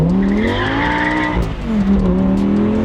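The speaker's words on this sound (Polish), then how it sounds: "piękny dźwięk silnika" An Audi R8 V10 GT Spyder, a limited-edition open-top supercar, roars loudly and close, its V10 engine revving with rising and falling pitch, dipping briefly before climbing again, with a slight tire squeal at sunset.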